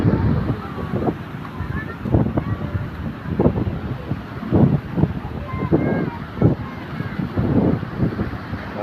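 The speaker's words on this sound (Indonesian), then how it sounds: "Ombaknya juga keras banget." Strong waves surge and break at Karapyak beach during the dry season, a series of heavy rumbling washes under loud wind buffeting the microphone.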